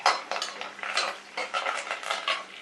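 A kitchen knife cuts lime-like fruit into quarters while cooking, producing a quick run of clinking, scraping blade-on-board taps close to the microphone.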